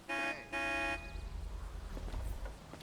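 Car locking in a video game: two short, loud electronic horn chirps in quick succession, followed by quieter engine and ambient game noise.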